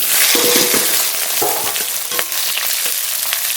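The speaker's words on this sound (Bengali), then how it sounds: "লবণ হলুদ গুঁড়ো এবার ভালো করে ভেজে নেব" Onion, green and dried chilli, cumin, salt and turmeric fry loudly in a hot wok, a steady close sizzle broken by repeated scrapes and knocks of a stirring spoon, with no voices.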